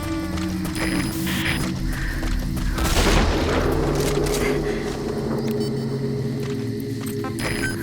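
Gunfire in Metal Gear Solid V: The Phantom Pain on PS4: a loud burst of shots and a booming blast near the middle, over a steady low rumble of game ambience.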